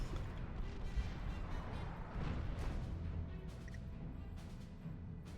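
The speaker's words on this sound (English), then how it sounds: "Me watching the automatic artillery cannon slowly turn and look at the SUV family of 4." An automatic artillery cannon fires in the strategy video game Supreme Commander 2, a faint, steady rumble of distant booms and crashes layered with mechanical noise.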